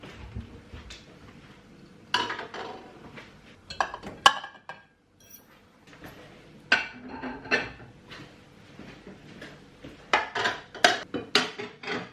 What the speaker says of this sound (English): I'm going to see if I can get the dishwasher sorted and just kind of tidy up the little bits of mess while that's doing